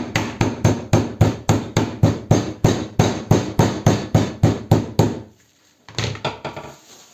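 Rapid, steady series of heavy thuds as a meat mallet pounds meat cutlets on a board, about three blows per second, then a pause and a few more.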